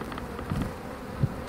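Honey bees hum in a soft, close, continuous buzz around a hive while a queen bee is handled with tweezers, with no voices present.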